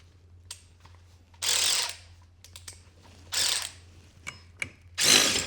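Short bursts of a power impact gun tightening the variator nut on a Yamaha Aerox 50cc R scooter, three loud whirring blasts separated by clicks and light workshop clatter, close by with no talk.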